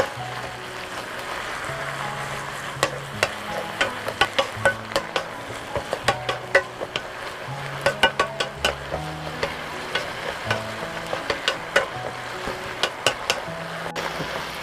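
Shishito peppers stir-fry with anchovies and garlic in a pan, a steady sizzle broken by repeated sharp clicks and scrapes of a utensil against the pan, with no talking.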